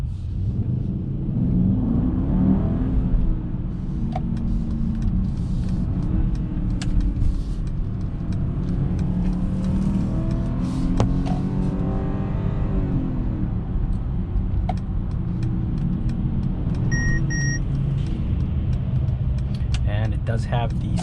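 A 2021 Mercedes-Benz GLE 580 driving, a steady low engine and road rumble heard from inside the cabin, with a few faint clicks and someone talking over it.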